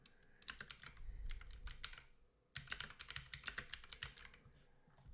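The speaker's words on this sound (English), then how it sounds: "I think I should just stop typing the letter R." Rapid typing on a computer keyboard, dense clattering keystrokes in quick bursts, close and fairly loud, with a brief pause midway before the typing resumes.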